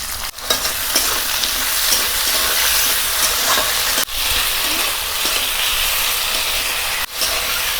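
Spices with ginger paste frying in a wok, a continuous loud sizzle and hiss with stirring scrapes, interrupted by a few brief sharp clacks of the spatula against the pan.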